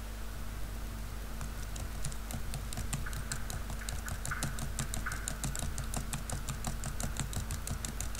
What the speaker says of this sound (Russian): Стоп, вылезает какая-то программа, она что-то печатает.